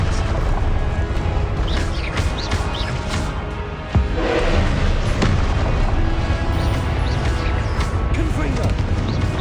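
Hogwarts Legacy combat with the Confringo blasting spell: a dense, continuous wash of booming impacts and crashing blasts with a sharp hit near the middle, loud throughout over layered game sound and score.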